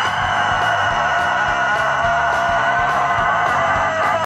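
Chickens cluck in a steady, rhythmic chorus while a rooster's crow rises over them, all loud and close, with no voices.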